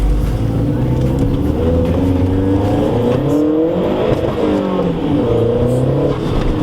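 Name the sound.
Mazdaspeed 3 car revving hard in first gear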